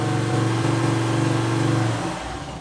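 A motorcycle engine converted to run on an LPG cylinder through a generator kit runs steadily and close by, a constant revving drone that drops off near the end as the engine winds down.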